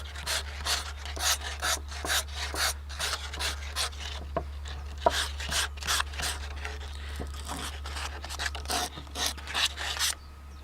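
Fine sandpaper rubbed along the grain of a wooden surface, a steady series of close, brisk scratchy strokes in an even back-and-forth rhythm, with a low mains-like hum underneath and no talking.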